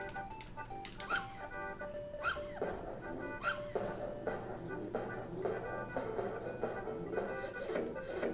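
Cartoonish dog yips and whimpers sound from puppies being dropped in the Earthworm Jim 2 video game, repeating in a steady series of short cries over game music.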